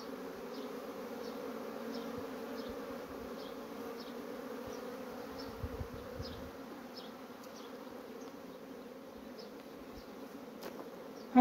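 Honey bees at the hives buzz steadily during the year's first nectar harvest. It is a constant, close-up hum of many insects, fairly quiet and even throughout, with no talking.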